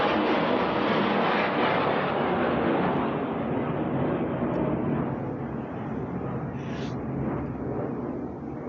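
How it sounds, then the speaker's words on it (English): An airplane passes overhead with a broad, steady roar that stays loud throughout, then slowly eases and thins toward the end, with no voices over it. "As a plane flies overhead."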